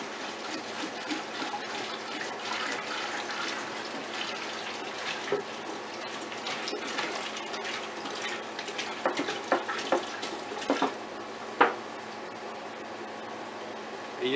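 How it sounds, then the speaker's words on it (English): Water running through a stacked-pot DIY filter after a gallon of red-dyed water is poured into the top pot, a steady trickle and splash with brief louder drips toward the end. "Dump your gallon of water with the red food coloring in your top pot."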